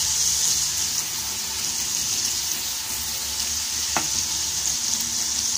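Butter melts and sizzles in a pan while being stirred, for a Filipino sautéed cauliflower, broccoli and tuna dish; a steady, close frying hiss runs throughout, with a brief utensil scrape near the end.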